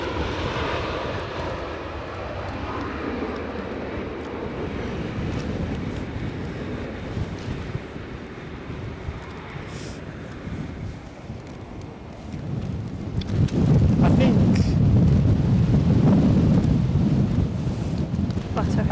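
A passenger airplane lands in gusty winds of over 50 mph at Edinburgh airport, its engines a steady roar under heavy wind buffeting, swelling louder and rougher toward the end as the aircraft nears.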